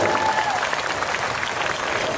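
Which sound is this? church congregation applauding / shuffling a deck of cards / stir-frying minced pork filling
church congregation applauding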